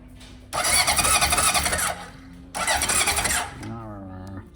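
A 1978 Honda CB750 motorcycle engine cranks with the ignition on in two loud bursts of starter churning, each lasting over a second, separated by a short pause, followed by a lower steady hum.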